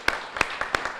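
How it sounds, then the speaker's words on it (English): A few scattered handclaps from a small audience at a press event announcing a new head coach, four or five distinct claps spaced apart, moderately close, with no voices. "give those guys a round of applause"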